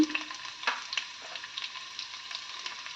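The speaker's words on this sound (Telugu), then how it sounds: "ఆయిల్ వేడెక్కాక వెల్లుల్లిపాయలు వేసుకోవాలి." Garlic cloves crackle and sizzle in hot oil in a pan, a steady close frying hiss with a sharper burst of spitting near the start, no talking.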